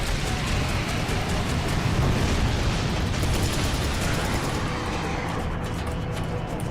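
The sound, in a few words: explosion in Serious Sam 3 video game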